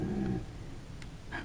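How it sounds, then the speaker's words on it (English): A dog growls low and rumbling for a moment at close range, followed by quieter whimpering yips, in a home setting with a Dark Souls 3 game running. "And Fen, what are you growling at?"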